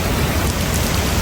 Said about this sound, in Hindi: भाई यहाँ बारिश बहुत तेज़ हो रही है